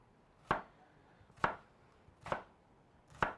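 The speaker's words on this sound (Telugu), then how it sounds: "సో ఫస్ట్ ఆనియన్ చాప్ చేసుకుంటున్నాను." Knife chopping onion on a board for a marinara sauce, with four separate, fairly faint chops spaced almost evenly about a second apart and quiet in between.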